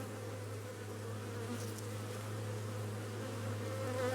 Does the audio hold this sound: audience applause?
no